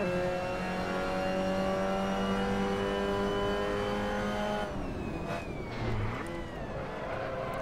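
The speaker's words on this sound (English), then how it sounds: "Did you hear the gearbox there?" A Mazda MX-5 Cup race car in a sim racing game holds a loud, steady engine drone, then the pitch drops and wavers as the gearbox shifts down without a throttle blip. The engine noise continues after the shift and no one speaks.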